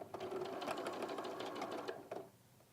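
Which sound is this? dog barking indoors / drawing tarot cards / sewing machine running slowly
sewing machine running slowly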